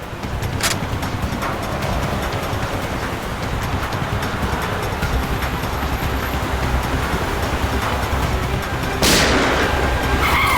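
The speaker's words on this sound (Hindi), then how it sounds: "टायर पे गोली मारो।" A gunshot fired at a car tyre in a CID crime-drama scene: a sharp, loud shot bursts out near the end over a constant roaring rush of vehicle and wind noise, with a fainter crack early on.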